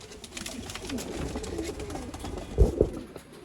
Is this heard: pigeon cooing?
yes